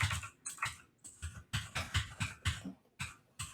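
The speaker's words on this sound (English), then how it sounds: "I'll start typing away" Rapid typing on a computer keyboard during a timed charity challenge, with bursts of clattering keystrokes separated by brief pauses, close and clear with no talking.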